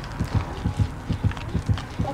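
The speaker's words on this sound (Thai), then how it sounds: "แต่ว่าเสียงหัวใจมันอยู่แถวเนี้ย" The heartbeat warning sound in the mobile video game Dead by Daylight Mobile thumps in a low, steady double-beat rhythm, close and prominent, with faint background game noise.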